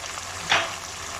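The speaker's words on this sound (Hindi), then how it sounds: "अब है जी बारी इसमें टमाटर की पेस्ट डालेंगे, आधा कप इसमें आराम से टमाटर की पेस्ट डल जाएगी।" Half a cup of tomato paste hits a pan of frying kaleji (liver) for kaleji masala, a steady close sizzle with one brief louder hiss and stir midway, no voices.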